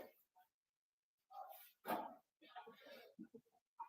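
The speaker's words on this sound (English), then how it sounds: "Dog's barking at the mailman." A dog barks in the distance, faint and intermittent, with a few short barks and yelps alongside quiet room noise during a weightlifting session at home.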